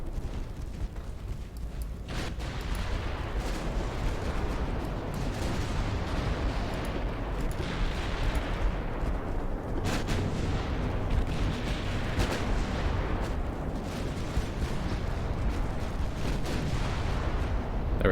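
Torpedoes strike a battleship in the naval game Ultimate Admiral Dreadnoughts, set in a British 1900 campaign. Heavy rumbling blasts and booming impacts follow one another in a dense, continuous barrage with no voices.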